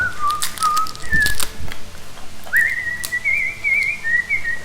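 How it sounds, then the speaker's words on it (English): A person whistles a wavering tune, short phrases then a longer sustained melody, near and clear with some light knocks in the background. "You're good at whistling as well."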